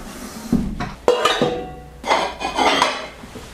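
Stoneware dishes from Egypt clatter and clink as they are handled in a home kitchen, a few distinct knocks followed by bursts of rattling, close and fairly loud.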